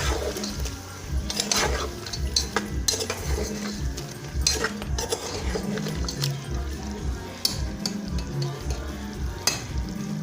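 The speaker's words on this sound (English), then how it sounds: "Then you stir again." Pepper chicken with crayfish being stirred in a cooking pot, a spoon scraping and churning the contents with soft sizzling underneath, steady and close throughout.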